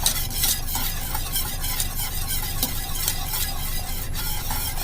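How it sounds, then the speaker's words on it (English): Vanilla cream pie filling boiling in a pot while being stirred continuously for a minute, a dense bubbling sizzle with rhythmic scraping strokes of the spoon, close and steady with no voices. "I'm going to boil it consistently for 1 minute while I stir"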